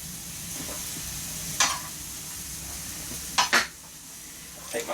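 Peppers and onions sizzling in a Ninja Foodi grill pan, a steady soft frying hiss with a few sharp clinks of utensils against the pan.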